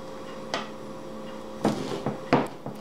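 A knife cuts through chilled, slightly frosty Neapolitan rice crispy treats, giving several brief crisp crunches spaced irregularly, close and fairly quiet against a soft background hum.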